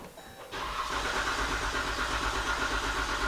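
A Jeep engine with a blown head gasket starts and then runs steadily, giving a loud, close, continuous mechanical drone with a rough low rumble. No one talks over it.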